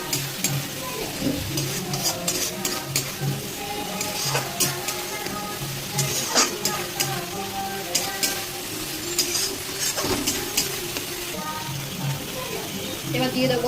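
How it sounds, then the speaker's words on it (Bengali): Water poured into a pan of spicy egg curry with chopped tomato, turmeric, salt and Kashmiri chilli powder sets off a steady, close sizzle, with stirring scrapes and splashy bursts running throughout. "হালকা জল অ্যাড করবো।"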